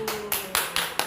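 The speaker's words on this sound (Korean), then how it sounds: "일단 가거나 하면 박수 한번 쳐주세요." A handful of short, rhythmic claps sound close by at a business seminar, about five firm hits in quick succession, with a faint steady tone and voices underneath.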